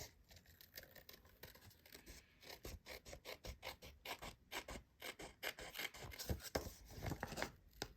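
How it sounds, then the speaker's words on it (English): Snips cutting through card along the line of an envelope, a faint run of quick crisp snipping clicks that grows busier and a little louder toward the end, close and with no talking. "take your snips and just follow the envelope line. Cut off the excess."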